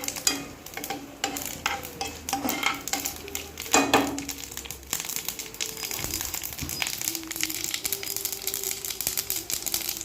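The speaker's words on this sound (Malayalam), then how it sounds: "കടുക് പൊട്ടുന്നു, ഉലുവായും കടുകും കൂടെ പൊട്ടി ഇതുണ്ട്" Mustard and fenugreek seeds spluttering in hot oil with shallots for a fish curry, a dense continuous sizzle peppered with sharp pops and crackles, with a louder burst of stirring partway through.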